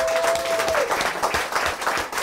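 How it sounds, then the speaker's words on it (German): Brief applause from a studio audience at a talk show, greeting a makeup and hair artist; a short burst of clapping with some crowd noise, fairly close and full. "Einen kleinen Applaus für Manfred, da ist er."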